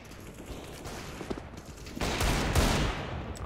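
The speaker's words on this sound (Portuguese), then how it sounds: "Eu dou um monte de tiro seguido" Rapid automatic gunfire in the game CS:GO on a deathmatch desert map, a burst of quick repeated shots that swells louder in the second half, with no talking over it.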